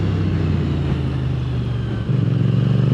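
A CFMOTO 450SR motorcycle engine drones at steady revs and then drops a gear about two-thirds through, the pitch shifting and the throb becoming more pulsing under a constant rushing wind.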